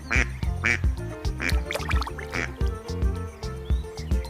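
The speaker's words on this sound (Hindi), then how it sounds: "बच्चों, ये देखो डक। डक को हिंदी में बत्तख कहते हैं।" A duck quacks again and again in quick, loud, close bursts, with a faint trickle of water in the background.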